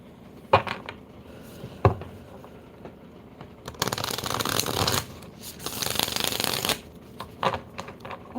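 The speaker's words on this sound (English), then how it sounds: "oh, my cards just shuffle like this." A tarot deck is shuffled by hand. Soft papery riffles come in bursts, with a few sharp taps of the cards at the start and a longer continuous shuffle in the middle, close and fairly quiet.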